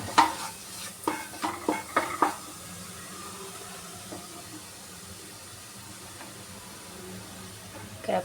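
A capsicum, tomato and paneer pulao's spice paste stirring in a pan, with a quick run of scraping strokes early on and then a soft, low sizzle continuing quietly.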